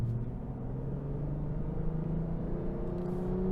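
A 2021 Lexus IS 350 accelerates in Sport Plus mode with a low engine drone that rises steadily in pitch over a few seconds, heard from inside the cabin with no talking.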